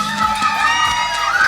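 Concert crowd at a Nyamitari show cheering and whooping for a singer as he takes the stage. The shouts and applause are dense and loud through the whole short stretch.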